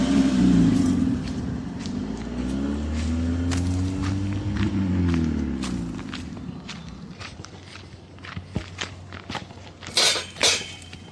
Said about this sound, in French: Il y a une voiture derrière toi.